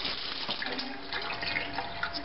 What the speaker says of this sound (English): Make sure the water still comes on.